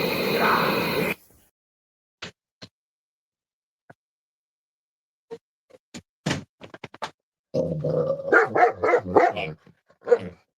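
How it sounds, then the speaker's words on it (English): A loud burst of noise at the start, then scattered single barks and ticks, building into a rapid cluster of dog barking near the end. "we got the dogs all excited because they hear all of the sounds"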